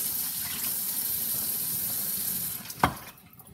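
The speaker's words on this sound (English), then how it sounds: "Let me wash my fork" Running tap water rinsing a fork in a kitchen sink, a steady close hiss of flowing water that ends with a brief clatter, then fades to quiet near the end.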